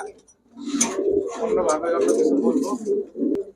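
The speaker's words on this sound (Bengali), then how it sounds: "আগে দর্শক আমরা কবুতরগুলো দেখি" Pigeons of Bengali high-flyer and fancy breeds coo steadily and close at hand, a soft continuous murmur of throaty calls filling the whole moment with no speech over it.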